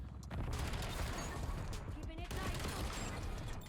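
Razor 9mm SMG gunfire in the Black Ops 7 video game, rapid bursts of shots crackling over a busy game mix with a voice talking over it.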